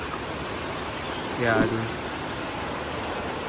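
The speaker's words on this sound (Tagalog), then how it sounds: "Napakalakas po ng ulan." Heavy rain pours steadily throughout, a continuous broadband wash of water from near by, with a short spoken word partway through.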